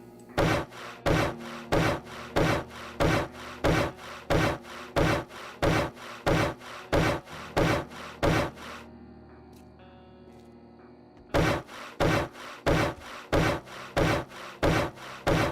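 A stone hammer upgrades blocks in 7 Days to Die with steady, evenly spaced rasping strikes that repeat loudly, pause briefly, then resume at the same rhythm.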